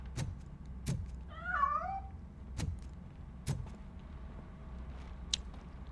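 A cat in the Robocop Rogue City video game meows once, a short wavering cry, as it escapes. The cry falls among sharp knocks and bumps over a low, steady background.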